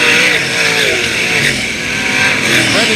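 305 sprint cars race at Attica Raceway Park, a loud, close roar of engines revving and shifting pitch as the cars pass, filling the whole moment with no break.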